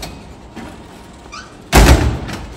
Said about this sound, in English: When I close that door,